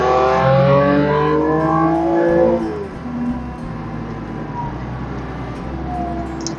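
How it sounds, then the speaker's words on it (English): An Audi S4 in drive or comfort mode pulls hard under acceleration, its engine note loud and climbing with rising harmonics for about two seconds before easing into a steadier, quieter drone with road noise. "It pulls really hard, even though it's in drive or comfort mode."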